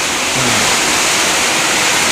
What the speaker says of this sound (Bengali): বৃষ্টির শব্দে কিছু শোনা যাইতেছে না